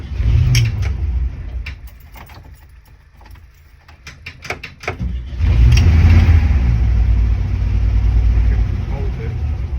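A car engine idles roughly, surging up and then sagging toward stalling, with a quieter dip midway before the rumble rises again and holds; a few faint knocks and mechanical clatter sit close by, with voices murmuring.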